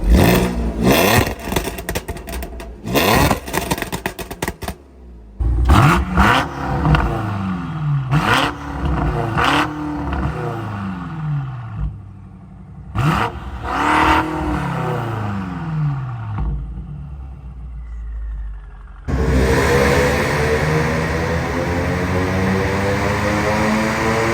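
Audi S4 on a dynamometer, an 034 Stage 1 tuned car, roaring loudly through repeated full-throttle pulls that climb in pitch, cut off abruptly and start again, ending in a sustained high-rev howl.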